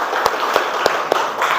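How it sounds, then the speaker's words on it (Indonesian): A classroom of students clapping together in steady applause, a dense continuous patter of many hands with a few louder claps standing out, close and fairly loud. "Oke, tepuk tangan."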